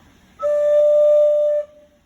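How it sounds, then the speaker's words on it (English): A single flue pipe of a church chancel organ speaks one steady, pure whistle-like tone, held for just over a second with a clean start and stop, loud and close against a quiet room. "this is just a flue pipe, F-L-U-E, like chimney flue, which means there's no boot and there's no reed, and it just functions like a whistle"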